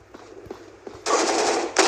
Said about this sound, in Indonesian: Kita bisa tembak musuh dari jauh.